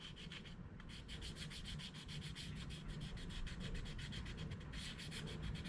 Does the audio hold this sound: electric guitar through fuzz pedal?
no